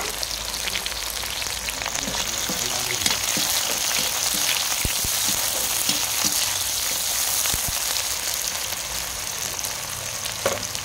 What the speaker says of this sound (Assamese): আলু ফ্ৰাই হৈ গ'ল এতিয়া মই মাংসখিনি বনাম পিঁয়াজখিনি দি দিলোঁ